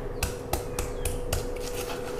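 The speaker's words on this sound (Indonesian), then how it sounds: "langsung saja mau tak ulek terus tak bumboni" A stone mortar and pestle (ulekan) pounds cooking ingredients in a home kitchen, making a series of sharp, regular knocks roughly four per second over a steady background hum.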